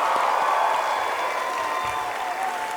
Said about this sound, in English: can we just get a quick round of applause for the amazing work of that team?